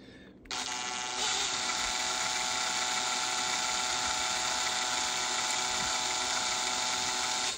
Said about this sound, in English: Let's go slow and try and grind off the spin marks.